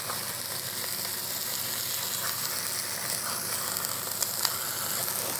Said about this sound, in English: First thing I do is I roast the pieces of cheek.